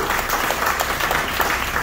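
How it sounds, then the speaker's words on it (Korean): Crowd of around 150 classmates and family at a reunion gathering on a boat claps loudly and densely in a brief, continuous burst of applause. "박수 한번 쳐주세요."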